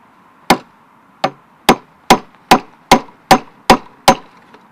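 A mallet drives a chisel into a wooden tie beam for a post and beam garage, nine sharp, loud, close strikes in a steady, slightly accelerating rhythm, each knock decaying quickly, with no talking.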